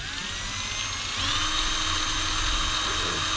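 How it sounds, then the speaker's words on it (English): A Dremel filing bit spun by an electric drill grinds rust off an old camera, a steady high whining buzz close up that grows slightly louder and harsher midway, with no talking. "So here I've got a filing thing from a Dremel on the end of an electric drill."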